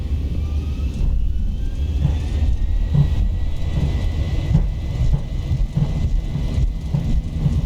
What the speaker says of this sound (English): we are stable and set takeoff thrust